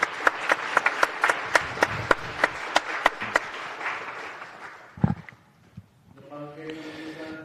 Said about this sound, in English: A round of applause for QIA.